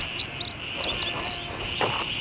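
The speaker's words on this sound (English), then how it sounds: "Player can only hear birds and frogs almost constantly." Birds and frogs in the video game Gray Zone Warfare: high chirps and tweets over a steady insect-like drone, an even constant ambience with no voices.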